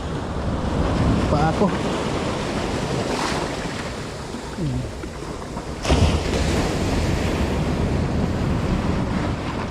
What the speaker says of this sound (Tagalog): Yung alon guys, ang lakas ng alon